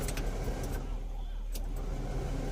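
A Kubota 135 tractor with an air-conditioned cab runs its engine close by, giving a steady, loud low rumble with a few faint clicks and rattles over the top.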